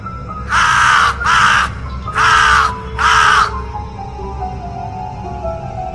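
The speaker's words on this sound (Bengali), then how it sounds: "পাশে একটি গাছে ভয়ঙ্করভাবে কাক ডাকছে" A crow caws four times in two quick pairs, loud and close, over a steady low background hum.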